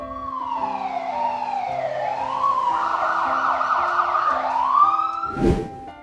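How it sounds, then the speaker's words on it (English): An ambulance siren wails loud and close, its pitch sweeping up and down in a continuous rising and falling tone for several seconds, then ending with a brief low thump; no one speaks. "A is for Ambulance."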